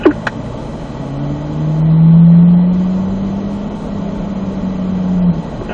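A Corvette Z06 engine runs at an autocross paddock, its low drone swelling into a rev around the middle, easing back down, then rising slightly again at the end, close and alone.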